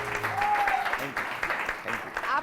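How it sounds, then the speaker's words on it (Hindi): Studio audience clapping on a TV morning talk show, a dense, steady wash of many hands filling the full stretch, with whistles or cheers poking through and voices mixed in underneath. "बहुत सारी तालियां इनके लिए"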